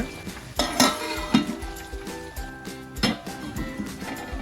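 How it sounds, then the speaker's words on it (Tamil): Onions being stirred in a frying pan while cooking for crab roast, with repeated clinks and scrapes of a metal spoon against the pan over a low sizzle, close and fairly loud, no voices. "அப்பப்போ இந்த மாதிரி கிளறி விட்டுக்கோங்க"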